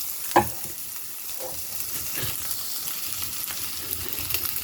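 A hot pan sizzles steadily while a coffee-rubbed T-bone steak cooks, a broad hiss filling the background with a few sharper pops and clicks near the start, fairly quiet and close, with no talk.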